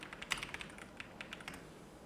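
Quick typing on a computer keyboard while entering text into a design program, a close, quiet run of light irregular key clicks with a few sharper taps, no voices.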